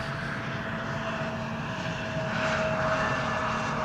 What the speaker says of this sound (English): Here we have an Embraer 175, KLM flight 1164